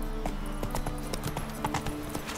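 Roach, Geralt's horse in The Witcher 3: Wild Hunt, gallops with rapid, rhythmic clip-clop hoofbeats, close and steady, over a low continuous rumble.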